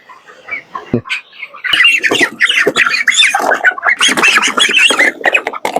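Broiler chickens, 26 days old, squawk and cluck loudly while being weighed in batches of five, a dense continuous clamor of overlapping calls close by, starting after a brief quiet opening with one sharp knock.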